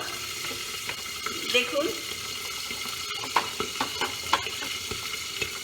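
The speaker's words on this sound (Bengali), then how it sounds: "তেল দিয়ে এতে আমি 1 টিস্পুন মতো কালো জিরে দিলাম, কালো জিরে ফোড়ন দিলাম।" Nigella seeds, about a teaspoon, sizzle in hot oil in a pan for a spicy Bengali tangra fish curry, a soft steady fizz with scattered crackles and clinks, and a voice briefly speaks.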